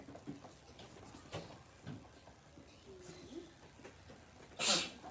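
A single sharp sneeze bursts out near the end, after a stretch of quiet room noise with faint movement.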